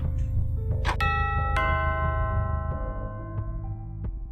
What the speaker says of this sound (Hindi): घर की डोरबेल बजी।